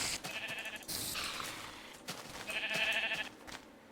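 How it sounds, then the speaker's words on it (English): Sheep bleat in the beta 1.2 version of Minecraft: two or three wavering, nasal game bleats in separate bursts, the last one longer and louder. "And a lot of sheep."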